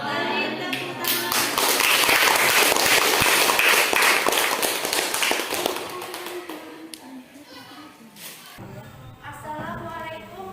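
A classroom group claps after finishing a presentation, a dense, loud patter of many hands that fades after several seconds as voices take over.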